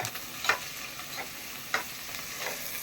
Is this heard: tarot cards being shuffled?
no